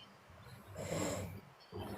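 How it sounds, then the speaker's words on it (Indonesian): A sleeping person snores, a single long, rough, breathy snore rising and fading over about a second, with another starting at the end, heard faintly in a quiet room. "Ini siapa yang tidur nih ngorok?"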